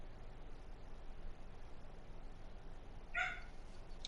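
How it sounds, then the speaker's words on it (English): A pet dog, a female, gives a single sharp bark near the end of a quiet stretch of low room hiss, close and fairly loud, at home during a PS4 live stream. "Bark at that motherfucker some more."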